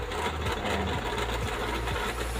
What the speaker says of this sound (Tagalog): So guys, umiikot na po. Nagre-rewind na po yung makina natin.